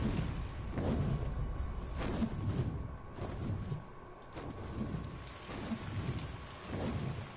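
A thunderstorm in the video game Ark, with steady rain pouring and several rumbling thunder cracks and lightning strikes spaced a second or two apart, loud and close.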